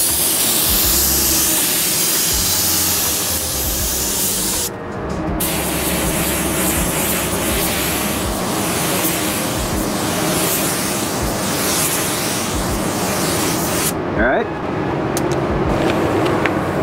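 Spray gun laying a pearl white basecoat onto a car panel during reverse blending, a loud steady hiss running nearly throughout with two brief pauses between passes.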